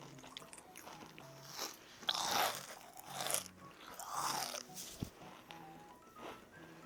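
Crisp crunching bites into a crunchy kadaif dessert, several loud crackly bursts with chewing in between, close to the mouth and free of talk.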